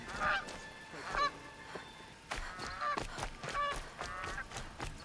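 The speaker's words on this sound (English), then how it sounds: "Oh, geese. You can't kill the geese." Geese in Horizon Zero Dawn give several loud honks in bursts, a pair early on and then a busier cluster of overlapping calls, with no talking.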